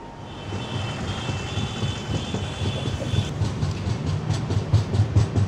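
The Shalimar to Sambalpur train rolls along with a steady rumble and a rhythmic clickety-clack of wheels that grows more pronounced toward the end.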